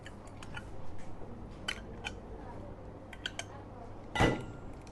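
Red cabbage salad, seasoned with salt, pepper and mayonnaise, stirred in a bowl: quiet, scattered clinks and scrapes of a utensil, then one sharper clatter near the end, with no one talking.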